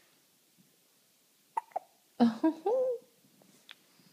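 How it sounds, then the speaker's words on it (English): A baby's hiccups, quiet and sparse: a couple of small sharp catches, then a short burst of voiced squeaky sounds, then one last faint hiccup. "Baby hiccups are the cutest."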